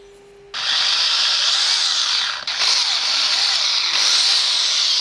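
A power drill fitted with a wood bit bores holes into wooden side boards, a loud high whine that starts abruptly, dips briefly once and then holds steady close to the listener.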